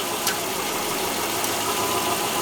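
A 2009 Subaru Forester engine idles steadily and close by, its tone shifting slightly as the revs change while the variable valve timing solenoid is energized, with no talk over it.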